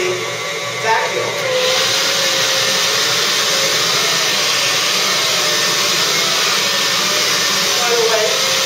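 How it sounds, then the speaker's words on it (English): A vacuum cleaner with its brush roll switched on starts up loudly and settles into a steady, close whirring roar that holds for several seconds with no talk over it. "I'm going to turn on the brushes, and I'm going to turn on the vacuum"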